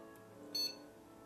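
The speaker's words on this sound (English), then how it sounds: "1 beep from the speaker." A single short startup beep from the motherboard speaker of an old computer being refurbished, heard faintly over steady fan hum.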